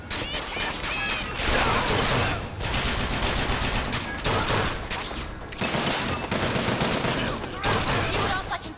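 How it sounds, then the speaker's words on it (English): Gunfire roars in a Bioshock Infinite fight: dense, loud volleys of rapid shots and machine-gun bursts come in waves separated by short pauses, with a voice briefly heard among them. "Where am I being shot at from?"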